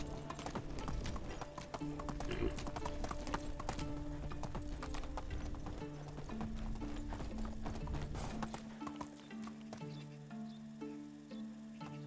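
In the video game Medieval Dynasty, a ridden horse trots with steady, rhythmic clip-clop hoofbeats close by and a brief whinny, the pace slowing near the end.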